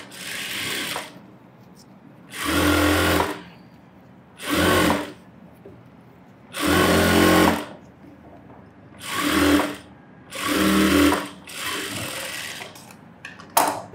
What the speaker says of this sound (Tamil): சும்மா ரஃப்பாக மேலே ஒரு தையல் போட்டுக்கிறோம்.